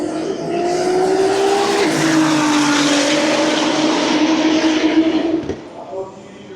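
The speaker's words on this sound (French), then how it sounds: "AMG GTR, elle accélère fort." A Mercedes-AMG GT R accelerates hard at a tire-burning car event: a loud, sustained engine roar climbs in pitch, shifts once, then cuts off and fades near the end, with crowd noise underneath.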